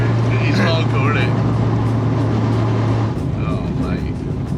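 An ex-racing Mk1 VW Golf with a 240 bhp engine on twin 45 carburettors runs loud and close, its steady engine drone filling the whole clip.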